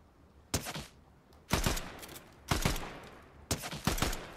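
Four separate bursts of Fortnite gunfire, each a short rattle of shots, land about once a second at moderate loudness with quiet gaps between them.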